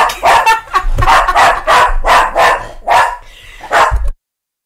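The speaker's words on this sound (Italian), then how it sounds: "Il cane" A dog barks loudly and close in a rapid series of about nine sharp barks, then falls silent.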